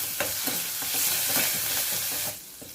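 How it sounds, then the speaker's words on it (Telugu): Curry leaves, crushed garlic and slit green chillies sizzling in hot oil for dal khichdi, a loud close crackling hiss with stirring clatters, no talk. "కరివేపాకు, అలాగే చితక్కొట్టి ఉంచుకున్న వెల్లుల్లిపాయలు ఉన్నాయి కదా ఇవి, ఇంకా స్లిప్ చేసి ఉంచుకున్న పచ్చిమిర్చి ఇవి వేసేయాలి."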